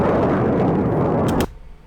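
Missile strikes and explosions in news footage make a loud, dense roaring blast that rumbles steadily, then cuts off abruptly into a quieter low background with a couple of faint pops.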